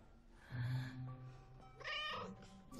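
A cat meows, several drawn-out calls at close range with a brief gap between them, the second call brighter and more strained.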